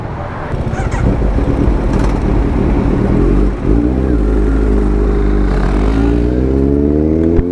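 Kawasaki Z900 superbike pulling away, its deep, loud engine droning steadily up close. There is a brief dip in the middle, then the revs rise toward the end as it rides off.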